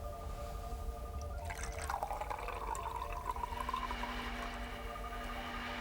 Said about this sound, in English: Pour out a glass of cooking oil, and in the other glass you pour some fruit juice.